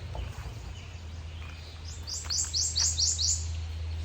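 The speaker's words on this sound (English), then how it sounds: "There's a prothonotary warbler right in here." A prothonotary warbler sings from nearby cover, a short run of five or six bright, rising sweet notes in quick succession, fairly clear over a steady low rumble of background noise.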